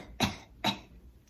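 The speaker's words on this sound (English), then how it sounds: "This little girl's coughing in her elbow." A little girl coughs twice into her elbow, two short sharp bursts close up with a brief pause between, no talking.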